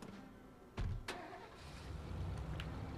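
A car starting in State of Decay: a sharp click, then an engine catching and settling into a low idle that builds slightly as the vehicle begins to move, close and fairly quiet.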